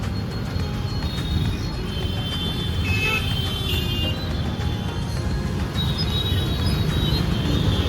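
Night road traffic in rain in Amravati, a loud, steady wash of engines and tyre hiss on wet road, with car horns tooting now and then over the constant rumble.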